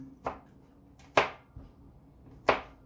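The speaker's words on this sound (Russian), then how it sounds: "Мелко нарезаем грецкий орех. Сильно не мельчите." Three sharp knife chops through walnuts on a board, spaced unevenly, each a crisp close thud with nothing else around.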